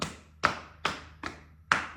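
Five sharp, evenly spaced claps about every 0.4 seconds during a yoga session, close and crisp with quick decays over a low background hum.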